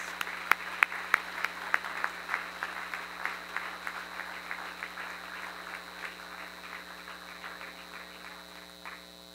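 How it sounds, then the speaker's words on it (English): Applause from an audience at a Business Council Global Excellence Award ceremony: steady clapping with a few sharper claps early on, gradually thinning and softening toward the end, with no talking over it. "Let's welcome them all up and give them a round of applause."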